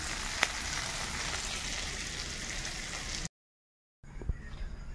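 Onions fry in hot oil with a dense, steady sizzle and crackle, close up and fairly quiet, cut by a short silent gap before the sizzling resumes.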